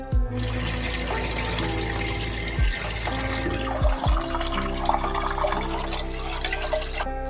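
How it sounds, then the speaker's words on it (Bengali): Chana dal (split chickpeas) is washed in a bowl under running tap water, a continuous close gush and splash with some sloshing and a few knocks, no voices. "ডাল ধোয়া হয়ে গেছে ভালোভাবে ধুয়ে নিয়েছি"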